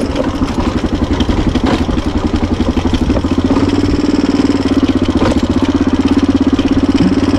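A motorcycle engine runs steadily close by with a continuous low rumble and a rapid, even rattle of firing pulses as the bike rides along a rough, stony track, with no speech.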